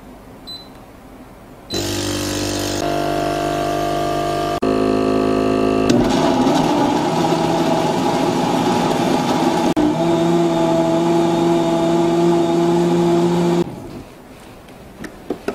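A kitchen blender grinds soaked black soybeans with reserved soy cooking water, a loud, steady motor whir running for about twelve seconds. The pitch shifts as the load changes, then the motor cuts off.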